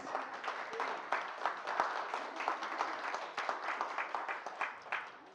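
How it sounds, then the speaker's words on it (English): Quiet, distant applause from an audience honoring the first African-American male 8th-degree black belt, a continuous patter of many hands clapping throughout with no voices over it. "Let's give him a round of applause, please"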